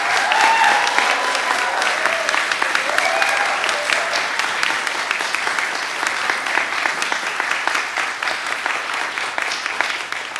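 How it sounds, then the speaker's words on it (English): Loud, sustained applause fills a college honors cording ceremony, a large crowd clapping steadily with a few brief voices and cheers rising near the start. "Can we give them one more round of applause?"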